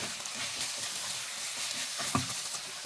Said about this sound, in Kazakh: Шамамен 1-2 минуттай картопымызды қуырып аламыз